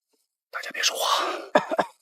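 A muffled cough smothered in a sleeve, in a wartime film scene set among soldiers crossing a blockade line, comes as a close, damped burst followed by two short sharp coughs near the end.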